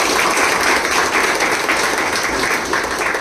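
An audience breaks into sustained, dense applause for a teacher at a coaching program for poor students preparing for the TET exam, loud and close, filling the whole few seconds.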